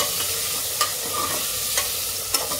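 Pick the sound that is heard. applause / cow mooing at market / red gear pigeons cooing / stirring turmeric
stirring turmeric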